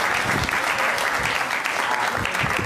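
Steady, dense applause from a crowd gathered for a Sri Ramnavami celebration, close and loud, filling the moment without pause as the audience claps after a telling of Lord Rama breaking the bow.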